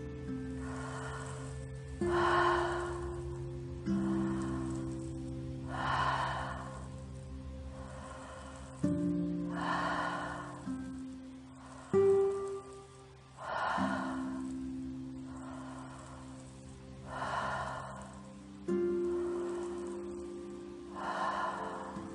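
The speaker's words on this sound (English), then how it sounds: "The breath is deep and diaphragmatic." Slow, deep breaths drawn in and let out in a continuous rhythm, several cycles of soft airy inhales and exhales close to the ear, with no talking.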